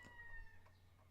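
A seagull calls with a few harsh, bird-like cries, fairly faint over a low steady background hum, with no talking.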